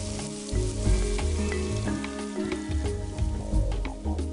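Liquid hits a hot pan with a bubbling sizzle, punctuated by splashes and occasional clinks, close and steady.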